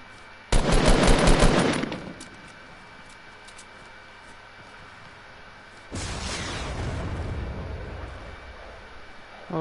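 Two loud bursts of rapid, crackling video-game fire and blasts from a guided rocket, the first short and intense, the second a longer rumbling roll after several seconds of quiet hum, with no voices.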